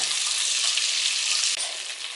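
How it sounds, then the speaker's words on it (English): Butter melting and sizzling in a pan over medium-high heat for Swedish meatball gravy, a loud, steady, dense frying hiss that holds continuously, with a slight dip and shift near the end. "I'm going to go ahead and add the butter. I'm going to let it melt a little bit here first."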